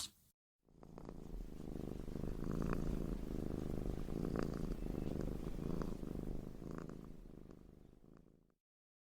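Gigi the cat purrs steadily while being petted, a close, continuous low rumbling that swells and holds for several seconds with no talking.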